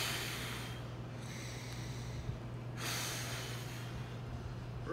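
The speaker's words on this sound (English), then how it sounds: "Forceful exhales out." A person exhales forcefully in a few sharp breath bursts while holding an anti-flexion core exercise, close and fairly faint over a constant low electrical hum, with no talking.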